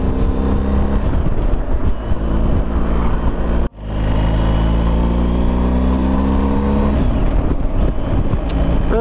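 A loud engine from an old convertible car roars steadily, drops out abruptly for a moment, then surges back as the car drives by close.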